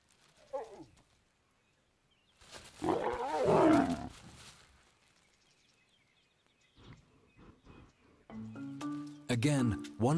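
Lions roaring in the wild, a deep, close rumbling roar that swells and fades, followed by lighter grunts and a final burst of tonal calls, with someone narrating over parts of it.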